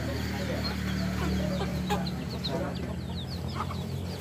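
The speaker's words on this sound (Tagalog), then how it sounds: "May mga manok." Chickens cluck steadily around a rural farmyard, with several birds calling in overlapping bursts over a constant low background hum and no talking.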